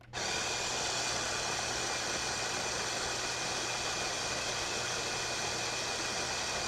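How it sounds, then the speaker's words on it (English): A small electric coffee bean grinder runs continuously and loudly from start to finish. Its steady whirring roar stays even, with no voices over it. "Got this handy little grinder"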